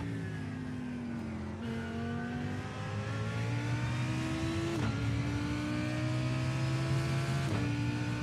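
Porsche race car engine in iRacing, a loud steady high-pitched engine note that drops sharply with each upshift three times, then climbs again as the car accelerates.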